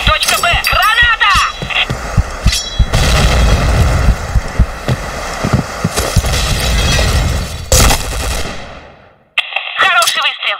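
Counter-Strike-style video game combat full of loud grenade explosions and gunfire, heavy booms and metallic bursts crowding together, with brief Russian voice callouts between them.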